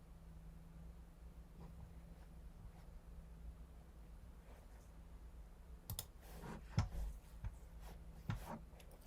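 A computer mouse clicking on an email attachment in a quiet room, a few short sharp clicks arriving late in the clip over faint steady hum.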